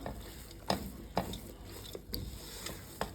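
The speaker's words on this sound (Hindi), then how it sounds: "मैं इसको इसके साथ मिक्स कर देती हूँ" A spoon mixes crushed pistachios and almonds into a pan of milk barfi mixture: soft, quiet scraping strokes with a few sharper knocks against the pan at an uneven pace.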